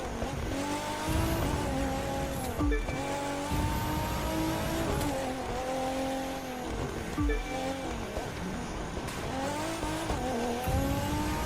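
Infinity Q60 Black S concept car driving in The Crew 2: a steady, loud engine note climbing and dropping through repeated gear shifts, with tire noise throughout.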